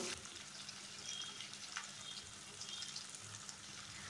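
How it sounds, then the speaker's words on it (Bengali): Boiled potatoes frying in a pan on low heat for a vegetarian jackfruit biryani: a steady, soft, even sizzle throughout, faint and close, with no talk. "সেদ্ধ করে নেওয়া আলু ভেজে নেব।"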